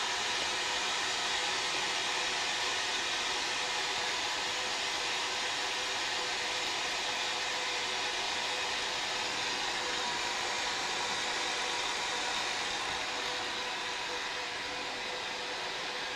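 Vacuum pump pulling down mesh during a shop build of a 1964 ES-335-style guitar: a continuous, even, airy hiss and motor hum, close and steady for the whole stretch with no talking.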